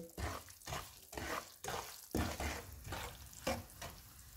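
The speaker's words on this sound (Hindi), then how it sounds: "अब हम इसमें ड्राई फ्रूट डालेंगे। इनको 1 मिनट तक भूनेंगे।" Dry fruits are roasted in semolina for suji halwa, soft sizzling broken up by rhythmic scraping stirs, about one every half second, close and quiet.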